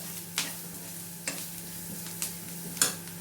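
Chopped tomato goes into a sizzling pan of horsegram masala and gets stirred, four sharp scraping strokes at a steady pace over a low, continuous fry hiss, up close.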